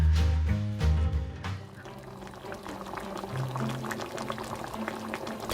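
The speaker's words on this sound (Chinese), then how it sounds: "烧开了那半锅清水" Half a wok of plain water boils in a large iron wok over a glowing charcoal fire, with a bubbling, gurgling rumble and a few louder splashy knocks at the start, then a steady simmering churn.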